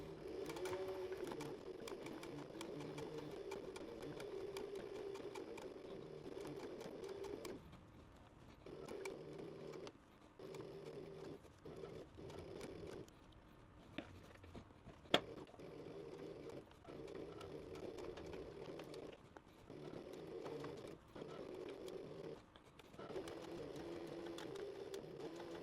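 A sewing machine stitches a circle of fabric for a canteen purse, a close steady mechanical whir that runs in long bursts broken by short pauses.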